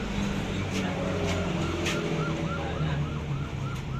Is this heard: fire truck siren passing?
yes